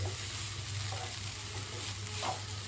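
A spoon stirs tomato rice in a hot pan, soft scraping strokes over a continuous low sizzle, quiet and close.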